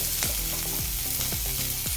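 Onions sauté in a pan, a steady close sizzle broken by rhythmic scraping stirs about every half second, with no voices over it.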